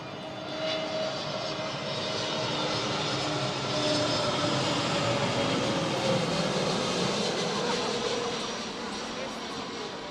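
An Airbus A320neo jet at Manchester Airport passes close by with a loud, sustained engine roar that swells and fades over about ten seconds, and people talk faintly beneath it.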